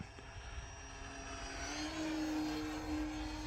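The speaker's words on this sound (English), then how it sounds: "But this airplane is flying really good now." An E-flite Ultra Stick 1.1m RC airplane flies steadily overhead, its propeller drone holding a continuous tone that swells slightly partway through, moderately distant and alone with no voices.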